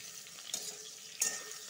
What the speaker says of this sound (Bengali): হলুদ ছাড়াই ভেজেছি